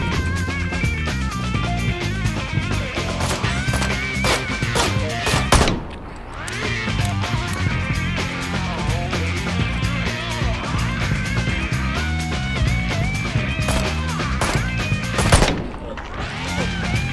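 Rapid bursts of gunfire in the video game Ride to Hell: Retribution crackle over busy game sound effects and music, with a couple of louder blasts standing out.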